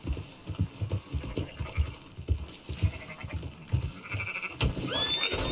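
Sheep in Red Dead Redemption 2 bleat repeatedly in a loose, overlapping flock, close and fairly loud, with a low rumbling throb underneath and a faint whistle near the end.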